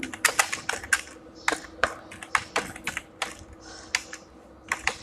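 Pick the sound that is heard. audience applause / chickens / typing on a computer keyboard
typing on a computer keyboard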